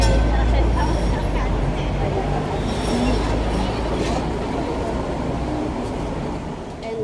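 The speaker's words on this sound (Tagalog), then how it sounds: "Nandiyan na yung tram. Dito na kami sasakay." A tram arrives at a stop in Hong Kong with a steady low rumble and rolling rattle close by, fading slightly toward the end amid street noise and people talking nearby.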